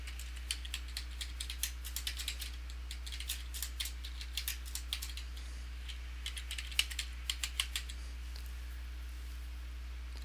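Someone types a file name on a computer keyboard, a quiet run of rapid, irregular key clicks up close over a constant low electrical hum.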